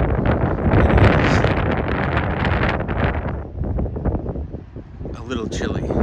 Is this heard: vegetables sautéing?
no